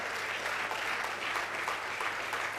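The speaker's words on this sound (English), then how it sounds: "I want you to clap for our Provost" A graduation crowd at a physiotherapy induction ceremony applauds its provost with dense, continuous clapping that holds steady and full throughout.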